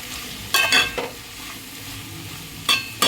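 Bitter gourd curry frying in a pan over medium heat, a steady sizzle under a few quick scraping stirs of a spatula that come in short pairs, close and clear, with no voices.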